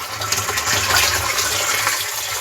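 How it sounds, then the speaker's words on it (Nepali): Tap water gushes steadily into a bottle at an outdoor village spot, a close, continuous hissing flow with no talk. "यहाँ पानी भर्दैछु है अहिले"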